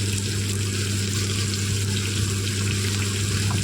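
Beans and carrots frying in a pan, a steady close sizzle and crackle that stays even and unbroken from start to finish with no talking.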